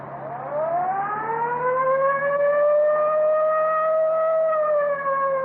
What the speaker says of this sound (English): Yeah, I'll get the siren.